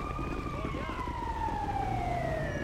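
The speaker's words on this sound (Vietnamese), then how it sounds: "Đây cấp cứu lại nè, mình không cho xe cấp cứu lại luôn các bạn ơi." A wailing ambulance siren in GTA 5 sweeps steadily and sounds close and loud, with traffic and game noise underneath.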